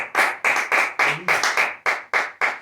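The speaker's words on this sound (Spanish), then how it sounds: "Denle un aplauso a Dios porque Él se lo merece." Rhythmic clapping from a church congregation, about nine sharp claps in steady time, loud and close, with a brief murmur of voices midway.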